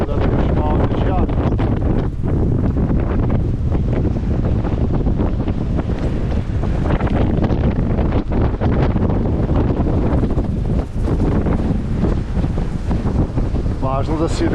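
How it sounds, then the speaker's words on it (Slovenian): Strong wind buffets an anchored sailboat at sea, a steady loud roar with gusty microphone rumble and sea wash running throughout, without a break. "Cel dan takole piha."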